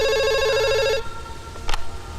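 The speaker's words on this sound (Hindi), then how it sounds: "फोन बज रहा है" A telephone rings with a bright electronic trill for about a second, then cuts off, followed by a short click and quiet room noise.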